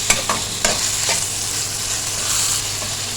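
Chicken sizzles in a pan with ginger and garlic, a steady close frying hiss broken by a few sharp scrapes of stirring near the start, with no talking.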